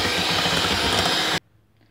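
An electric mixer whirs loud and close through chocolate cake batter in a steady high buzz, then cuts off abruptly, leaving near silence.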